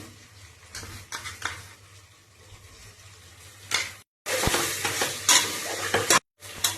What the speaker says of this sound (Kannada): ಶುಂಠಿ ಬೆಳ್ಳುಳ್ಳಿ ಪೇಸ್ಟ್ ಹಾಕೊಂತ ಇದ್ದೀನಿ